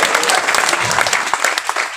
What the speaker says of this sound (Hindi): अरे तालियां तो इससे डबल वहां पे बजी थी